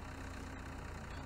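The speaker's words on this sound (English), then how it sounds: "there's just a tractor out here in the middle of the field just running" A tractor sits idling in a field in Farming Simulator 17, its engine giving a steady, even low rumble that runs unbroken and close throughout.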